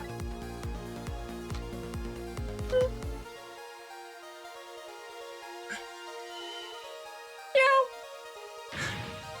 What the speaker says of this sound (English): Oh, a kitten.